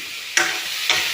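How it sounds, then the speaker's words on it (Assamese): Vegetables fry in a pan with a soft, continuous sizzle, and two sharp stirring clicks sound about half a second apart, close by, with no voices. "এপিনে ভাজি বনাই আছো"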